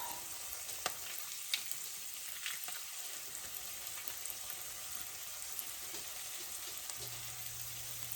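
Canned beets fry in a pan with a steady, soft sizzle and faint crackle throughout, with a few small clicks of handling.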